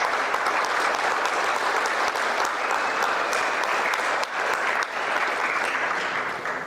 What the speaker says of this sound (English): let's give a big round of applause to the organizers of this event, Dave Mock and Doug.